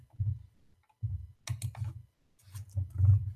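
Three bursts of mouse clicks sound close and fairly loud, each a short cluster of sharp taps, separated by brief silences while someone works in the Canvas online course software.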